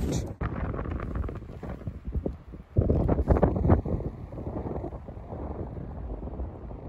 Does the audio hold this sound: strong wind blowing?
yes